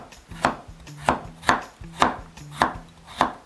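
A knife chops vegetables such as cucumber and carrot on a cutting board for a Korean acorn jelly salad, six crisp, evenly spaced strokes close by with no talk.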